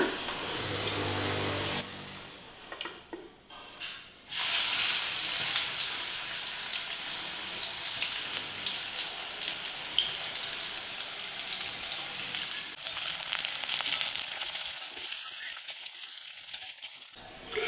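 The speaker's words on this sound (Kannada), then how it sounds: "ಉಳಿದಿರೋ ಹಾಗಲಕಾಯಿನ ಹುರ್ಕೊಂಡ್ಬಿಡೋಣ" Slices of bitter gourd fry steadily in hot oil, a continuous crackling sizzle with occasional scrapes of a spoon or slotted ladle, heard close and alone.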